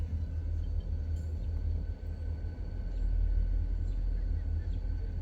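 A freight train backs up slowly in a rail yard, giving off a steady low rumble with faint metallic tones on top. It is heard from some distance, with no voices.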